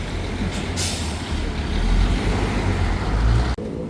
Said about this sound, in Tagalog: Dalawang truck ng bigas.